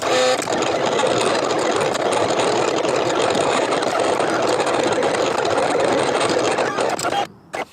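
A Silhouette Cameo 4 cutting machine works through a vinyl car decal, giving a steady, close mechanical whir and rattle of the moving carriage that runs evenly for several seconds before stopping abruptly.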